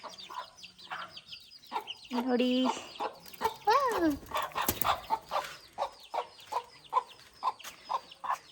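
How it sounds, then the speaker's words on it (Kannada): Domestic chickens on a village farm cluck repeatedly in a steady rhythm nearby, with a rooster's crow partway through and a person speaking briefly. "ನಮ್ಮ ಕೋಳಿಗಳು."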